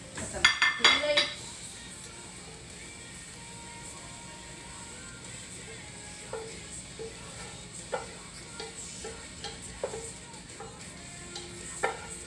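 Cooked onions are lifted out of a pan onto a plate, giving a few sharp metallic clinks and scrapes of utensil on cookware at the start, then scattered soft clicks over a faint background sizzle.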